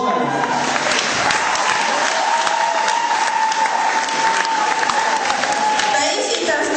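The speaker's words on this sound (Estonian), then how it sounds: "Aplaus talle." Audience applause at a school Christmas ball, steady dense clapping that holds throughout with a murmur of crowd voices mixed in.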